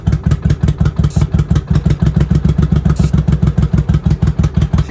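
A 1983 Honda Shadow VT750C motorcycle engine running on starting fluid, a loud, close, rough and uneven pulsing throb with clattery mechanical noise, no voices.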